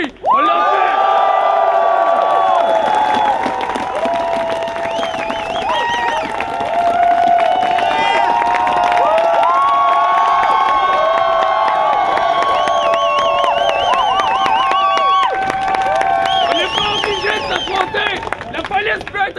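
A large student protest crowd at night in Montreal cheers, whoops and claps in a loud, continuous roar, with voices shouting and chattering throughout.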